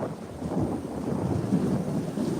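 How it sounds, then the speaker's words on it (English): Thunder from a severe thunderstorm at Rockaway Beach rolls as a steady, loud low rumble with the hiss of rain mixed in throughout. "you can't be taking off during a severe thunderstorm"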